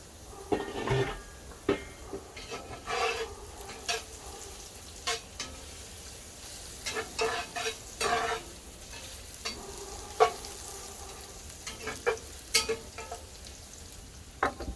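Potatoes frying in a pan for a fireman's breakfast casserole are stirred, giving a soft sizzle under intermittent scraping and clinking of the utensil against the pan in short bursts, close by, with no talk.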